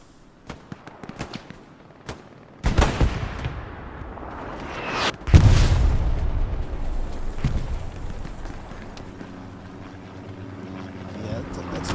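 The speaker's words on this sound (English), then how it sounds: "that's definitely artillery mixed in with some smoke" Artillery shells landing on the Foy map during a competitive Hell Let Loose match: a sharp, heavy boom followed by a second, louder close impact with a long rumbling tail, scattered smaller thuds around them, and a low voice murmuring in the background.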